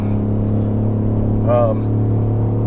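A 2021 Ford F150 with the Max Tow Package accelerates at about three-quarter pedal while towing a camper, a steady low engine drone and road rumble running throughout, with a short voice-like tonal burst partway through.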